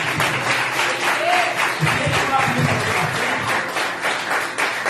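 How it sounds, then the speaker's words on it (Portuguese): A church congregation applauds at a revival service, steady dense clapping filling the room for the whole stretch, with voices murmuring underneath. "Eu queria que você aplaudisse para nós."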